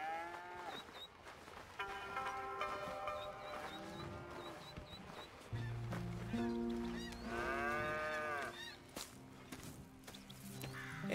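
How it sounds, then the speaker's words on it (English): Cattle on a farm in Red Dead Redemption 2 moo several times. The long, drawn-out calls come from varying distances, and faint footsteps and ambient game sounds run under them. "Here's the cows."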